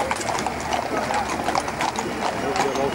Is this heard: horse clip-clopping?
yes